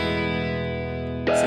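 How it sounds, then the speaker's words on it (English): Electric guitar through a fuzz effect on a NUX MG50Li amp, scene 1: a steady held, buzzy fuzzed note sustaining evenly, then a brighter picked attack at the very end. "I actually already have that here where I've got a fuzz"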